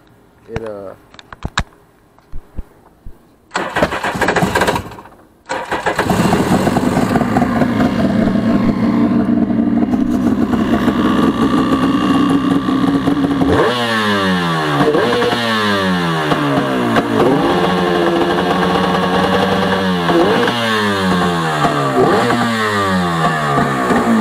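A Suzuki Tigershark jet ski engine sputters and clatters, then catches and revs hard, repeatedly rising and dropping in pitch with a loud, buzzing roar.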